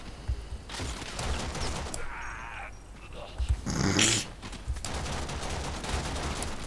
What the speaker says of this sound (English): I've got this big old machine gun, the Braton, which is pretty mean